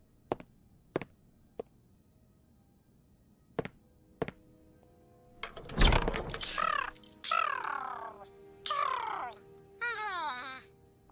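A bird on a roof in a Sherlock Holmes video game chirps and trills in bright, repeated bursts after several sharp isolated taps, the calls loud and close and heard alone.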